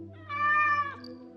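A cat gives a single clear, close meow lasting under a second, set against quiet background hum.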